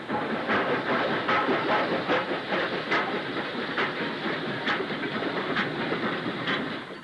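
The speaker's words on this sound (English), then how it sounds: "This is an empties train of hoppers heading for Bidston." Freight train of empty hopper wagons bound for a steelworks rolls past at steady volume, a continuous wheel roar marked by regular clickety-clack beats over rail joints, no voices.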